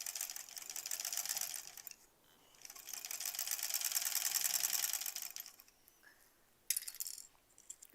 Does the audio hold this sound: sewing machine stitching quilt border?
yes